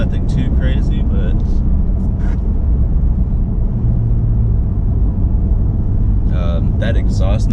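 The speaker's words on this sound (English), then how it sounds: "that exhaust noise that you hear is artificial. It's pumped into the cab." Artificial exhaust sound piped into a smooth, quick pickup truck's cab: a steady low drone and rumble under the ride, with voices briefly at the start and end.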